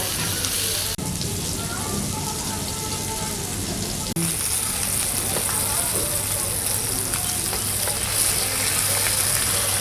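Food deep frying in hot oil, giving a steady, dense crackling sizzle that runs the whole time, with faint voices in the background.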